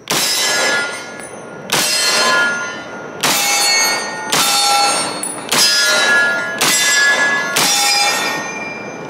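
An M1 Garand rifle fires seven shots at steel targets, each loud crack followed by a ringing metallic clang, spaced roughly a second or more apart at a steady outdoor range pace, with no talking.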